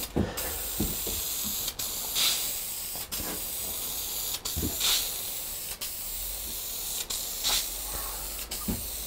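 Krylon Crystal Clear aerosol can spraying a clear finish onto a carved wooden sign, a steady close hiss broken by several short pauses between bursts.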